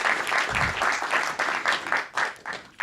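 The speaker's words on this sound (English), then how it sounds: "Applause, please." Audience clapping at an international pitch competition event, a short burst of fairly close, lively applause with individual claps distinct, swelling and tapering over a few seconds.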